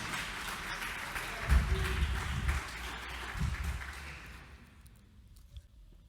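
A church congregation claps together for a few seconds, the applause swelling then gradually fading away into a quiet room.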